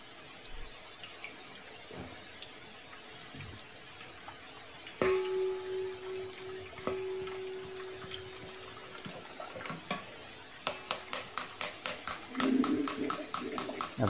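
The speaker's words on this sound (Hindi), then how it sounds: "आप देख सकते हो अभी पानी भी बहुत निकला है" Water running out of an Aquaguard Maxima UV purifier during servicing, a low, steady flow beneath a sharp clang and a tonal hum, followed by a quick series of rhythmic knocks near the end.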